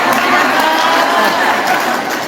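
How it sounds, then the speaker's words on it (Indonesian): A crowd at an IGRA anniversary gathering claps and cheers steadily and loudly throughout, with a dense wash of applause and scattered voices. "Tepuk tangan."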